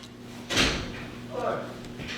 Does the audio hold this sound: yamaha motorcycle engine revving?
no